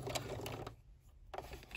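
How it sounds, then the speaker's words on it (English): A sewing machine stitching a rolled hem on rayon fabric, a fairly faint rapid mechanical whir that pauses briefly midway and then resumes. "Let me do a couple of stitches here."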